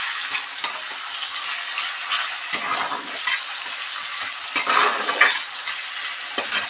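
Tomatoes and salt stirred in a hot frying pan, with a steady close sizzle and the intermittent scrape and clatter of a utensil against the pan, no talking.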